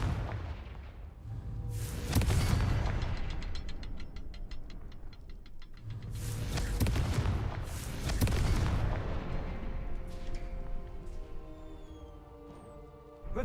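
Two heavy explosive blasts from the Confringo fire spell in the video game Hogwarts Legacy, each a loud booming burst that rumbles and decays over a few seconds, with ringing, crackling game effects between and after them.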